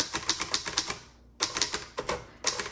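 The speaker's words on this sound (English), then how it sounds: "So this is very easy to type. Nice bounce back." A 1954 Hermes Rocket typewriter types in quick, close, crisp keystrokes in two short bursts, with a brief pause between them.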